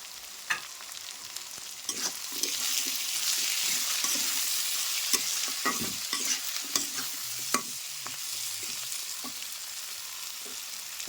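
Ground coriander, turmeric, chili and cumin with grated ginger sauté in a frying pan for an egg dish, a soft continuous sizzle punctuated by repeated spatula scrapes and knocks against the pan.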